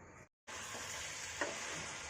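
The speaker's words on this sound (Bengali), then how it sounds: "হ্যাঁ, এবার নাড়াচাড়া করবে।" A pan of Indo-Chinese chilli fish sizzles and is stirred, a continuous close frying hiss cut by a short gap near the start and a faint scrape partway through.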